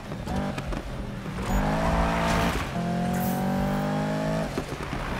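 Engine revving hard at full throttle in the Need for Speed racing game, rising in pitch through gear shifts with a brief tire squeal, loud and continuous with no talk.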